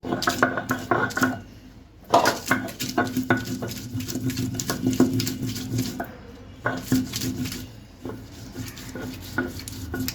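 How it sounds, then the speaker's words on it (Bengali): A handful of green chillies is ground on a grinding stone with close, rhythmic scraping and knocking strokes that come in bursts, pausing briefly once before resuming steadily. "হাফ কিলো চিংড়ি মাছ বাটার জন্য ঠিক এক মুঠো কাঁচামরিচ আমি এখন বেটে নিচ্ছি"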